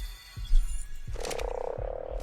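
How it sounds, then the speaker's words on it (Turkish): Small frog croaking in the survival game Ark: Survival Evolved, a run of short, low croaks pulsing in a steady rhythm, then a louder buzzing croak that holds for about a second, heard close with no talk. "Küçük kurbağa, küçük kurbağa."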